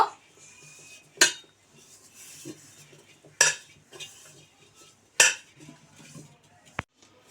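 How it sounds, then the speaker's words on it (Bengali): A metal spoon scrapes and clinks against a pot while ghee is stirred in for chicken biryani, with three sharp knocks against the rim among soft scraping and a faint sizzle, no talking. "ঘিটা ভালো করে মাখিয়ে নেব।"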